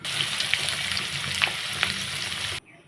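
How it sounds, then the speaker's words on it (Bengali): Red hill potatoes frying in oil in a pan, a steady close sizzle with faint crackles and occasional stirring clinks, running alone before cutting off abruptly near the end. "এখন এই লাল আলুগুলো ভেজে নেব।"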